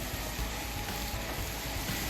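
Button mushrooms cooking down in a pan give off a steady, even sizzle, a soft broadband hiss with low crackle. It runs without a break through the clip and stays fairly quiet.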